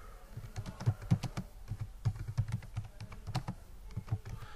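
Close, steady clicking of a computer keyboard as someone types in short irregular runs of keystrokes, moderately quiet with no talking.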